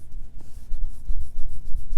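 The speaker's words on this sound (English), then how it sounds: "That is the sound of an NH36 movement." Winding of a Seiko NH36 automatic watch movement inside an Islander ISL-135 sport watch, a close, soft rubbing and faint ticking rasp that repeats irregularly over about two seconds with no talk.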